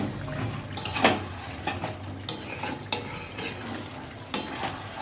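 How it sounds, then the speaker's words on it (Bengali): Mango-smoked chicken being stirred in an uncovered pan, repeated scraping strokes of a spoon against the metal over a low sizzle, close and steady with no talking. "ঢাকাটা এবারে খুলে নিয়ে নাড়াচাড়া করে নেব একটু।"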